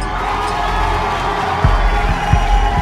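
An audience at a Bhojpuri dance competition grand finale cheers and whoops in a loud, sustained crowd roar, with a few heavier thumps later on.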